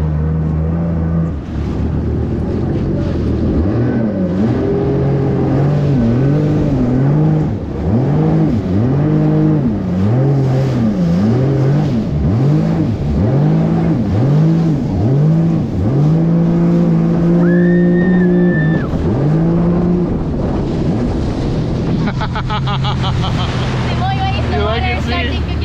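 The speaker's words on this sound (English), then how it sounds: "You ready to jet ski, Chrissy?" A jet ski engine drones and revs loudly while riding across a boat wake near the Shangri-La in Boracay, its pitch rising and falling in repeated surges over steady wind noise, with voices talking over it.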